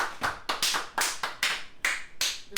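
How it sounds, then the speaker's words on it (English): A small group of podcast hosts claps in a quick, uneven burst, each sharp hand clap distinct and close, ten or so strikes spread over a couple of seconds with no talking. "Round of applause, gentlemen."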